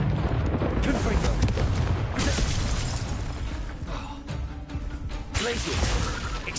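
Confringo fire spell blasts in the video game Hogwarts Legacy, a dense, loud burst of crackling booms and shattering impacts that run continuously with game effects and music, with no speech over it.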